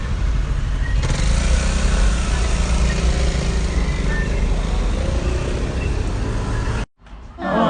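Afternoon road traffic with cars and motorcycles, a dense continuous wash of idling and passing engines close by, loud throughout before cutting off abruptly near the end.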